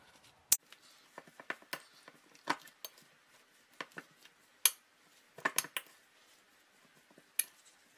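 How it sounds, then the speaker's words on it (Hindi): Boiled potatoes are mashed in a mixing bowl for chokha. A utensil knocks and scrapes against the bowl in irregular, sharp clinks and taps, some louder than others, over a quiet background. "आलू को मैंने अच्छे से मैश करके तैयार कर लिया है"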